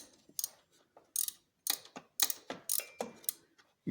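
A ratcheting box-end wrench working a bolt on a 2002 Corvette Z06 during alternator removal, rapid clicking ratchet bursts in quick uneven strokes, close and clear with no talking.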